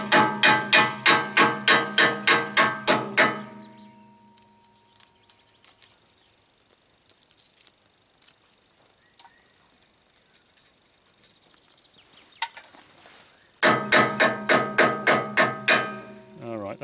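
Loud, rapid hammer knocks on the rusty bodywork of a battery-powered Transportel electric moped, a burst of about ten sharp metallic strikes, then quiet handling noises, then another fast run of strikes.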